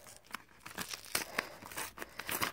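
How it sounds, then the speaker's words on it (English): A package is ripped open by hand in a series of close crinkling, tearing bursts of paper or plastic, irregular and continuous over a few seconds with no talking. "I'm just gonna try to rip it because I don't feel like"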